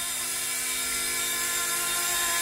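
An RC scale MD500 helicopter (C189) with a brushless motor and automatic altitude hold hovers close by, producing a loud, steady high-pitched whine with a fine buzzing rotor texture.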